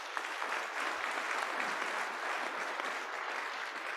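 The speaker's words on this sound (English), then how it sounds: "Please, another round of applause." A school awards program audience gives a steady, dense round of applause for the Boise Rotary Century Scholars, the clapping sustained and even throughout without talk.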